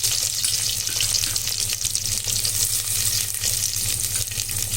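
Sliced onions and curry leaves frying in oil in a clay pot, a dense, constant close-up sizzle with faint stirring and a low steady hum underneath.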